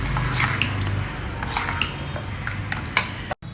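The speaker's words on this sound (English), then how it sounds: "Add some salt for this quantity of batter and mix it well." Salt being stirred into dosa batter in a bowl: wet squishy swirling with light scraping clinks of a utensil against the vessel, close and continuous for a few seconds.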